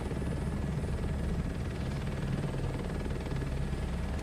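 Crop duster aircraft in Microsoft Flight Simulator 2024 taking off, a loud, steady engine and propeller drone that holds constant throughout with no talk over it.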